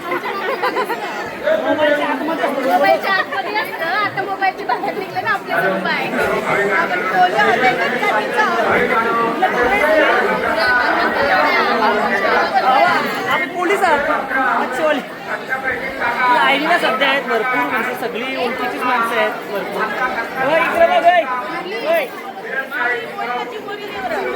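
Dense, loud chatter from a big crowd of devotees packing the steps of the Kelamba Devi temple at Kharoshi, a steady overlapping hubbub of many nearby voices throughout.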